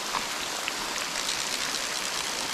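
Steady rain falls close by as a continuous, even hiss of drops on surfaces, with no voices over it.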